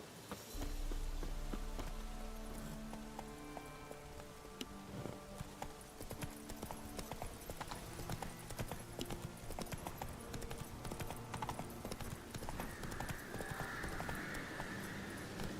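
Horse hooves clip-clop steadily in The Witcher 3, a regular trotting rhythm of hoof taps over quiet game ambience and music, with no talking.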